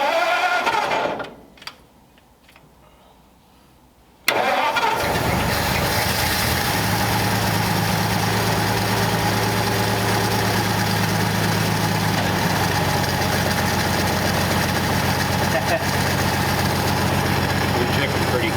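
A Lincoln V12 engine catches after a choke adjustment and settles into a loud, steady idle with a low rumble, preceded by brief cranking and a short quiet gap.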